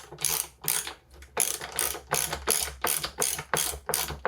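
Ratchet with a 5mm bit driving a bolt down onto the damper shaft of a RockShox Pike Charger fork damper, giving about ten rhythmic bursts of close, crisp pawl clicking.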